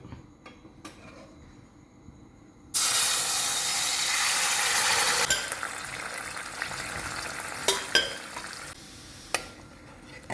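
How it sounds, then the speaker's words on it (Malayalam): Steady frying hiss in a pan as a paste is stirred into ghee for pumpkin payasam, with scraping, stirring clatter, a loud sizzling stretch that eases into intermittent scrapes and taps near the end. "ബാക്കി നെയ്യിലോട്ട് ഇതിട്ട് നമുക്കൊന്ന് നന്നായിട്ട് മിക്സ് ചെയ്യാം"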